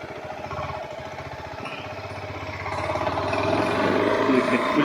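A KTM Adventure 390 motorcycle is ridden on its default traction-control settings, its engine droning steadily and building in loudness toward the end, heard up close from the bike with someone talking over it throughout.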